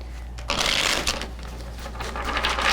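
A tarot card deck is shuffled close up: a crisp, rapid riffling burst begins after a short pause and continues briskly for a couple of seconds.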